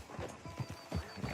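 Horse hooves clip-clop in Red Dead Redemption 2, a steady run of low, close thuds with a whinny-like texture around them and no talk.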